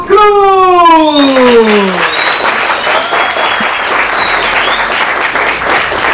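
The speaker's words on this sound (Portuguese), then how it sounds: "É bom ser recebido com tantas palmas assim, né?" Audience at a comedy show in a bar erupts into loud sustained applause and cheering for a comedian, a dense wash of clapping lasting several seconds after a rising whistle-like shout at the start.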